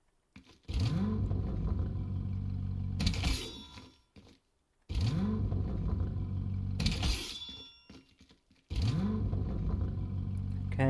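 A Corvette supercar in a video game starting up three times in a row: each time a rising starter whine, then the engine catching into a steady rumbling idle, before cutting off, with brief silences between.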